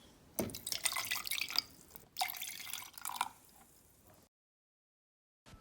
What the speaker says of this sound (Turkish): Fincan kadar su ekliyoruz.